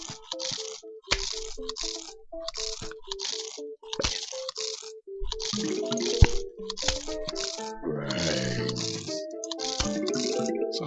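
A Plants vs. Zombies zombie chews on a plant with repeated wet, squishy bites in an even rhythm. Light game music plays underneath, and the sound becomes busier with added chimes and effects in the later seconds.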